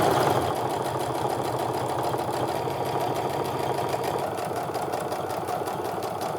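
Sewing machine stitching a second line on a handmade clutch, a continuous close mechanical whir with rapid needle chatter, steady throughout with a slight drop in loudness near the end.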